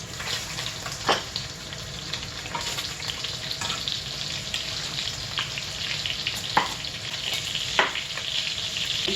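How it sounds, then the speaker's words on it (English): A couple of sausages fry in a pan, keeping up a steady loud sizzle with occasional crackles and the odd clunk of a utensil, close by and with no talking. "I'm going to go ahead and throw in a couple of sausages."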